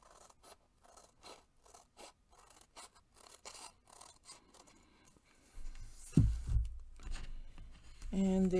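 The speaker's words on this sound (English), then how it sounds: "I'll just trim this off," Scissors trimming paper for a junk journal, a series of quiet, crisp snips close by, followed by louder handling and rustling noises and a brief voice.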